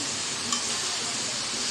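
Vegetables hiss and sizzle in a hot pan as they are stirred, a steady close frying noise with a faint clink of the utensil.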